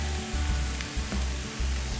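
Fried rice sautéing in a pan with a splash of olive oil sizzles loudly and continuously up close, with faint scraping and stirring under the hiss.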